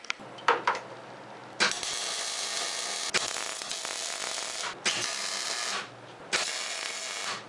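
Tack welds on a motorcycle seat pan for a 1981 Suzuki GS850 build, heard as a series of short buzzing, crackling bursts, each lasting a second or two with brief gaps between them, close and fairly loud.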